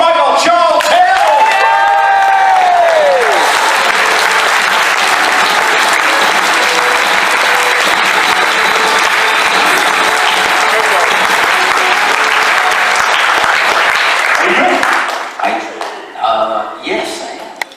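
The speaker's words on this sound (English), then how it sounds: "give a massive round of applause to Michael Charles Hill!" A live audience gives Michael Charles Hill a loud, sustained round of applause with cheering and whoops. The dense clapping holds steady for about fifteen seconds, then thins out to scattered claps.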